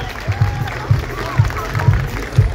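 A festival crowd applauds municipal workers at an outdoor concert, many hands clapping in a broad wash under amplified talk and low rhythmic thumps from the stage.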